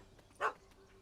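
A dog in The Witcher 3: Hearts of Stone gives a single short bark, mid-distance and moderately loud, over a quiet game ambience.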